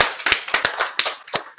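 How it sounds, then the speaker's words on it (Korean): A handful of sharp, separate claps in a lecture hall during a TRIZ creativity class, about seven uneven slaps spread over under two seconds, fairly close and alone with no talking. "와, 박수."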